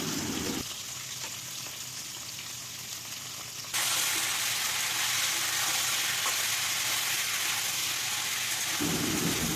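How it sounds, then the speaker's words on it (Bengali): Potatoes, green banana, papaya and drumsticks stir-fry in hot oil in a wok, giving a loud, continuous hiss that surges noticeably stronger partway through and holds steady. "এবার সবজিগুলোকে একটু ভালো করে নাড়িয়ে চাড়িয়ে নিতে হলো"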